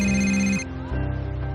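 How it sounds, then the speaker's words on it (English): A phone rings with a bright electronic tone, then the ring pattern shifts to a lower buzzing tone, close and clear, with no voices. "Noticed that my sister's phone kept ringing"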